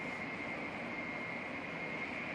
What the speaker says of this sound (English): This is filmed from a space between two of the train cars.